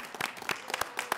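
A small crowd at a Bloomington, Indiana city council meeting applauds a proclamation honouring a resident. Distinct hand claps come close together in a brisk, uneven rhythm.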